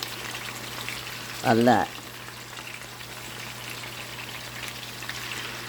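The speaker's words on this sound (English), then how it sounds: "add the chicken and let it cook" Chicken pieces fry in a pan with a steady, even sizzle throughout, and a voice briefly speaks over it.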